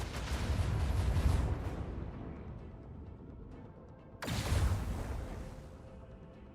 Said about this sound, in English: See if I can chain together some of the explosions.